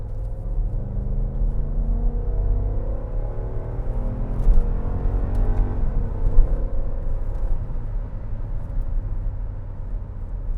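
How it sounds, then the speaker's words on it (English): A 2012 Range Rover Sport of about 375 horsepower under full-throttle acceleration in manual mode, a deep continuous engine roar with rising harmonics, heard from the cabin with no talk. "I'll go ahead and switch this over to manual selection and do the full throttle run."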